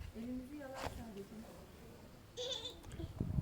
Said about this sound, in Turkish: Afrika'nın cüce keçisiymiş o bak.